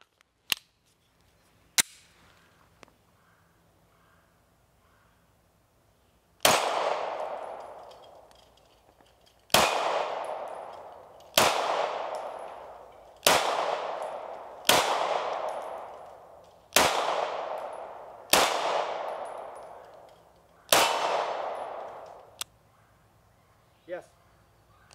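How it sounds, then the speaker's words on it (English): Canik TP9 Elite SC pistol fitted with a Sig Sauer Romeo Zero red dot firing PMC 115 ammunition, about ten loud sharp shots spaced a second or two apart, each with a ringing outdoor decay, plus a few fainter clicks and clanks before the string. "I'm gonna put 2 mags through the gun"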